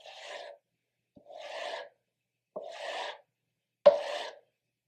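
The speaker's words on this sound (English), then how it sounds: "Now you're just stropping that blade. Same thing on the back." A chisel blade is stropped on its back face in four slow, evenly spaced rasping strokes, each a soft drawn-out rub with short silences between, close and fairly quiet.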